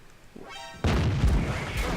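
A tank gun fires in World of Tanks with a sudden loud boom after a short rising whine, followed by a rolling, crackling rumble that lingers to the end.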